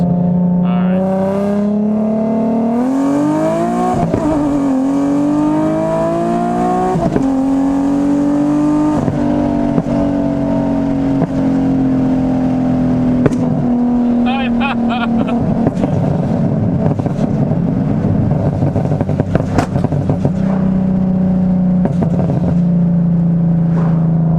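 A Nissan 370Z sports car exhaust revs and climbs through gears, rising and falling in pitch with loud, raspy bursts, close by, with occasional voices underneath.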